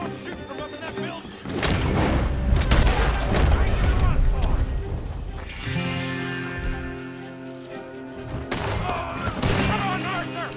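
Heavy gunfire in a Red Dead Redemption 2 shootout, with loud, dense volleys of rifle and pistol shots and booming blasts rolling on almost continuously, dipping briefly midway before another burst, with voices talking over the fighting.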